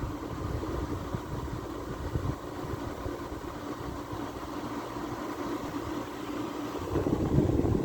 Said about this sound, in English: compressor is going too, so that's nice